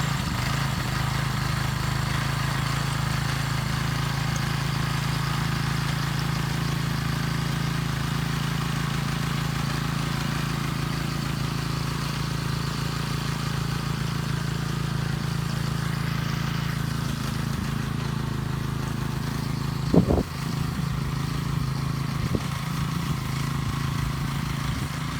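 A Howard tractor engine idles with a steady low rumble for the whole stretch, close and constant, broken by a brief clunk near the end.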